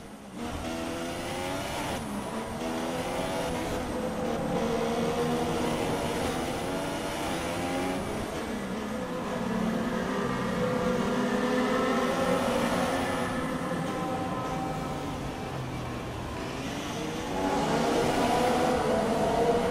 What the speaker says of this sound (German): Du kannst den Motor etwas aufdrehen, wenn du willst.